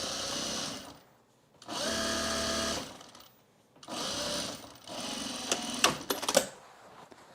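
A serger sewing machine stitches denim for men's jeans in three loud bursts of whirring with short pauses between, ending in sharp clicks and clacks.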